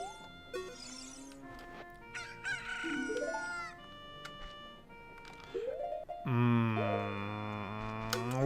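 A rooster in the Ocarina of Time video game crows loudly in a long final call, preceded by shorter clucks and game music tones, close and clear without talk.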